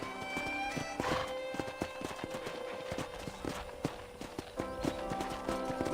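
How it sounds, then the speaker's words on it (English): Horse hooves clip-clop steadily while a horse neighs and whinnies near the start, set in the video game Red Dead Redemption with game music and ambience underneath. "I picked out a fine horse for you."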